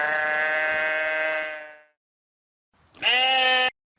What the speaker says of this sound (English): Sheep. Sheep or domesticated sheep are domesticated.